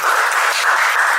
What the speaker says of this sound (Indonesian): Tentunya tepuk tangan lagi sekali lagi buat Cipenny.